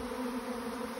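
A swarm of honeybees surrounds the listener outdoors, producing a continuous, droning buzz with a steady low hum, close and constant with no voices.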